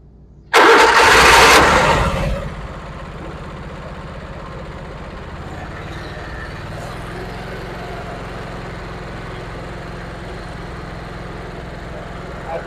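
A 2017 Vermeer SC362 machine's engine cranks briefly and catches with a loud roar, then drops back to a steady, close idle that runs on without pause.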